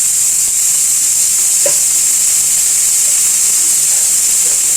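Vegetables sautéing in a pan with salt for a samosa filling give off a steady, bright sizzle that runs evenly throughout, with one brief stir in the middle.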